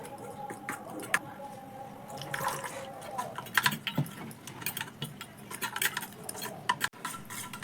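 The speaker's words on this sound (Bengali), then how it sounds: "এবার এর মধ্যে কিছুটা জল দিব।" Water poured into a flattened rice (chira) batter with curry leaves and mixed by hand, wet squelching, drips and irregular clicks close by.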